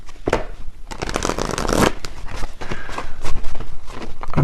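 Tarot cards shuffled close and loud, a continuous flurry of riffling and slapping card sounds lasting several seconds.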